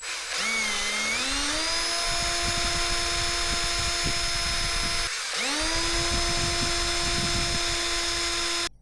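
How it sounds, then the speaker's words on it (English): A power drill bores into wood while a 1940s-style fishing lure is being remade. Its loud, close whine spins up and holds steady, cuts out briefly around the middle, then spins up again and runs to the end. "I think part of my problem was I was going too slow too with the drill."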